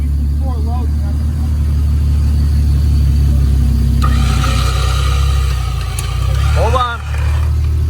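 A Jeep YJ engine creeps along in four-low with the front axle shaft missing on one side, a steady low drone running throughout beneath close talk, with a brief lift in revs partway through.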